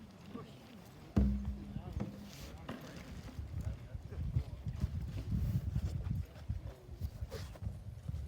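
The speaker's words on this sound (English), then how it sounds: "These horses are rolling and running." Horses rolling and running at a horse training academy graduation day, with a brief low hoof clip-clop and rustling movement beneath a busy outdoor background as people talk over it.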